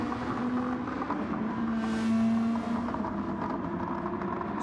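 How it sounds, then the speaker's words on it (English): Race car engine in a Nissan GR2 racing video game at the Red Bull Ring, a steady droning tone with the exhaust burbling on the overrun, continuous and fairly loud. "On the overrun as well, burbling exhaust"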